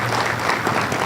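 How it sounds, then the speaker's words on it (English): Steady audience applause at an economic conference, a dense wash of many hands clapping at moderate volume throughout. "So one last applause for our sponsors."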